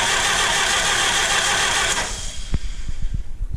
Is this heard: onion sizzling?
no